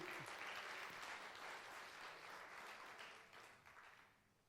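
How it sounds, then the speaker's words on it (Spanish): A church congregation applauds together during a sermon, a dense and steady wash of clapping that holds strong for most of the stretch and then thins out toward the end. "Denle ese aplauso, Señor."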